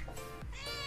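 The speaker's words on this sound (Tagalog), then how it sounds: "Yung mga naririnig yung meow-meow dyan." Cats meowing close by in a home, two short overlapping harmonic meows under faint background sound.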